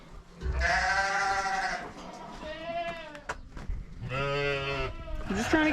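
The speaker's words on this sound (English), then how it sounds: "the sheep are kind of driving me nuts" Several farm sheep bleat loudly and repeatedly near the microphone at feeding time, long wavering cries overlapping one another, with squealing piglets and a voice mixed in among them.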